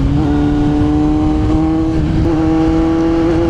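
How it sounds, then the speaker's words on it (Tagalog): Kawasaki Z900 motorcycle running with its silencer removed gives a loud, steady, droning exhaust note that holds an even pitch throughout, close and continuous with no talking. "Kaya enjoyin na rin natin yung exhaust ng Z9 ngayon."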